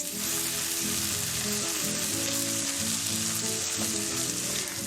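Sofrito with tomatoes and ginger sizzles steadily in a pan over medium heat, a continuous close frying hiss with crackle and no voices.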